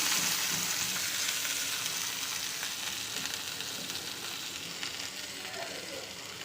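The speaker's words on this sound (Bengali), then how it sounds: "আমি একটু করলা ভাজা করবো" Bitter gourd fries in hot oil in a pan, producing a close, continuous sizzle that starts loud and gradually softens over several seconds, with a few faint stirring scrapes and no clear speech.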